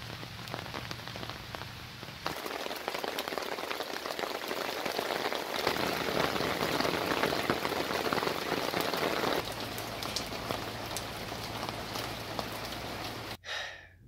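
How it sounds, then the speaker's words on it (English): Heavy rain pouring down outdoors on a sunny summer day, a dense, steady close hiss of drops striking surfaces that swells in the middle and cuts off abruptly near the end, with no talk. "It is raining. It's like pouring out, but it's sunny."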